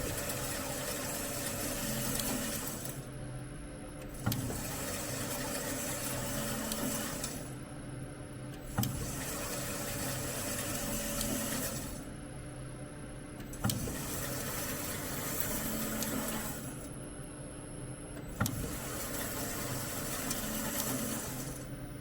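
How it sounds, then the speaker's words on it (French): A BEKAMAK BMSO 350 GA 14-inch fully automatic mitering bandsaw running its cutting cycle, a steady machine drone broken into repeating cycles of several seconds, each marked by a sharp clunk and a brief shift in pitch. "La machine va démarrer les opérations de coupe."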